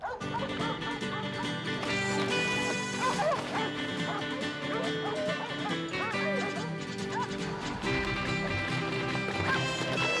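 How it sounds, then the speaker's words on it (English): Several cattle dogs bark and yip excitedly while working a bull in Kentucky, over a busy, dense background, the barking continuous and mid-distance throughout. "It's amazing how a bunch of noisy dogs can adjust the attitude of a mean old bull."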